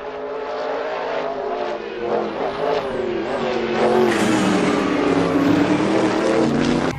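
A small black toy race car gives off a steady, buzzing engine whine that rises and falls slightly, loud and close, running continuously throughout.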